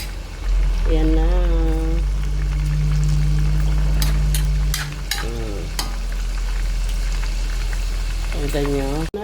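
Pork afritada simmers and sizzles steadily in a pan while a utensil stirs and scrapes it, close and continuous, with people talking over the cooking.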